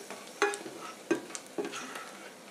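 Onions fry quietly in a pan for a casserole, a soft steady sizzle broken by three scraping stirs of a utensil, with no talking.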